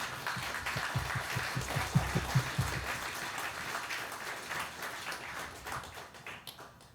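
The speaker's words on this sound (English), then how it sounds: "How about we just do one more round of applause for Mike?" An audience applauds at a public talk, a dense, steady wash of clapping that runs several seconds and thins out toward the end.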